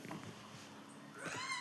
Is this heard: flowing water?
no